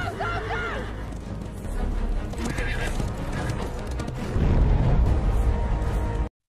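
A horse neighs and whinnies, then its hooves clip-clop and pound away at a steady gallop over a busy, dramatic backdrop with a burst of louder rumbling near the end.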